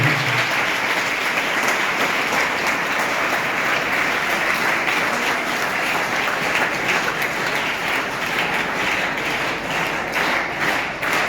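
An audience applauds at a public programme, a dense, sustained burst of clapping from many hands that fills the space continuously and loudly.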